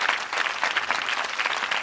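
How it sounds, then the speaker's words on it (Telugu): An audience at a Christian church gathering in a village claps together in a dense, continuous burst of applause, loud and close throughout. "फिर जोर से ताली बजाइए प्रभु यीशु मसीह के लिए."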